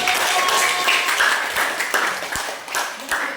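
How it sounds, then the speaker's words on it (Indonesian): Students clap together in a junior high school classroom in Sorong, a dense, even patter of hands that lasts a few seconds and fades slightly toward the end, with faint voices mixed in. "Terima kasih, tepuk tangan dulu"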